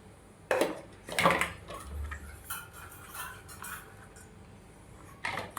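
Sporadic clinks and taps of a utensil against a bowl as chopped onion and other omelet ingredients are combined and mixed in a home kitchen, quiet with irregular spaced knocks.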